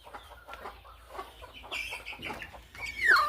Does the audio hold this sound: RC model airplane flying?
no